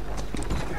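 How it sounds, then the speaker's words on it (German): Hooves of a horse-drawn carriage clip-clopping on a street in Assassin's Creed Syndicate, a few quick close hoofbeats over a steady rumbling background. "ich will hier auf die Kutsche, ich will die fahren jetzt"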